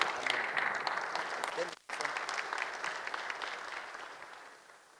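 Church congregation at a pastors' gathering claps loudly and continuously, with a brief break midway before the applause resumes and slowly fades.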